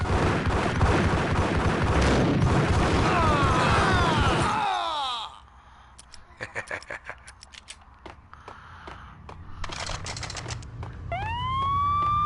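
Police sirens wail loudly in the Max Payne video game over a busy, dense backdrop, then cut out, leaving sparse clicks and sharp knocks before a rising siren tone returns at the end.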